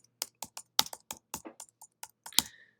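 Computer keyboard typing in short, uneven bursts of crisp key clicks, about a dozen strikes with brief pauses between them, close and clear with no talking.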